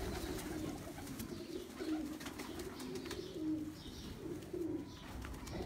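Pigeons on a rooftop loft giving repeated soft, throaty coos in a loose rhythm over faint background noise, with no talking.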